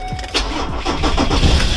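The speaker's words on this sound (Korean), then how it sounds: "근데 저는 시동을 걸고 해보도록 하겠습니다." A Porsche Cayenne starts after sitting unused for a long time, at home: the starter cranks in a short run of pulses, then the engine catches and settles into a loud, close idle.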